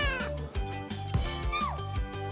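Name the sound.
cat meowing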